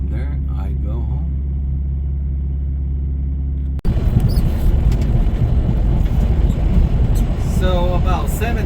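A truck driving along city streets in Lincoln, Nebraska, on 84th Street, with a steady low engine rumble and road noise that turns rougher and louder partway through, and a voice talking over it.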